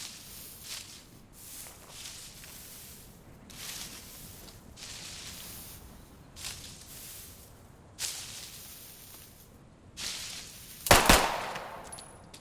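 Gunfire near the player in the WWII shooter game Post Scriptum: scattered, muffled shots and short bursts come and go against a low battlefield rumble, ending in a sharper, louder volley near the end.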